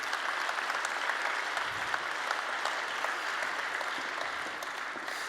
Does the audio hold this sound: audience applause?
yes